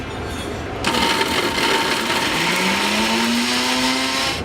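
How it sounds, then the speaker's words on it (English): An electric spice grinder whirs into a loud, steady buzz grinding whole spices for garam masala, a rising motor whine sustained to the end with no talking. "In the grinder."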